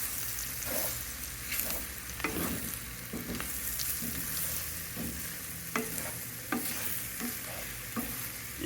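Shrimp curry stirred in a sizzling pan, a quiet steady fry with repeated scrapes and knocks of the spoon against the pan at an uneven rhythm, close by and without talk.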